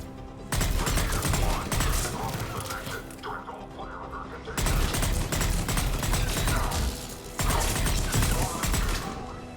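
Gunfire from a checkpoint firefight in the PC game Mass Effect 3, with dense, loud bursts of shooting lasting several seconds each, separated by brief dips, with mechanical clatter mixed in.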